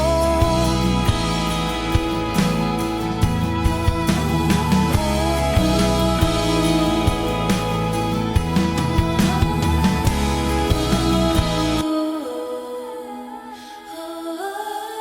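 A song section with a sung melodic hook repeating over electric guitar and a full band mix, loud and steady throughout before dropping to a thinner, quieter passage near the end.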